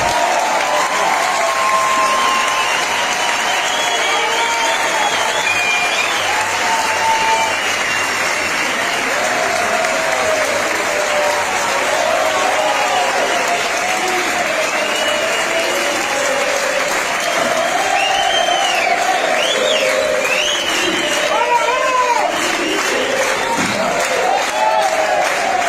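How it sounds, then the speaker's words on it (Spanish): A crowd gives a blues musician a long, loud ovation, with continuous clapping mixed with cheers and whoops rising and falling over the whole stretch. "fuerte aplauso."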